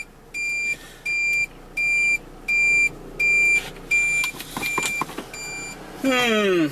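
An electronic turn signal alarm buzzer, a homemade flasher with part of its hole covered, beeps in a steady on-off rhythm, about seven pulses, close and loud, before a rising mechanical whine at the end.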